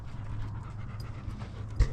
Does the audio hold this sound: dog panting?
yes